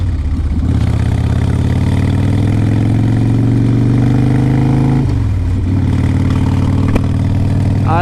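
A 2004 Harley-Davidson Road King Custom motorcycle rumbles loud and close while being ridden, its deep engine tone rising steadily under throttle, then dropping sharply at a gear change before pulling again.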